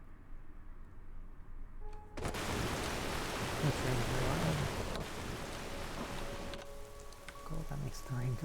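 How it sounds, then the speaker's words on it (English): Rain sound effect in a video game, a steady dense patter of rain on surfaces that starts abruptly and continues evenly with a faint tonal hum underneath. "Cool, that makes the rain go away."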